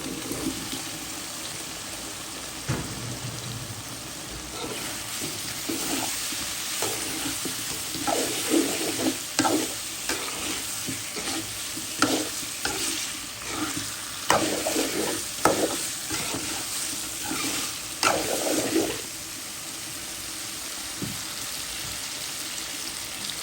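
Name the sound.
potatoes and chicken gizzard being stirred and fried in pan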